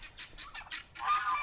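A flock of backyard fowl calls in a rapid series of short honking clucks, about five quick bursts followed by a longer, louder squawk, fairly close with no voices.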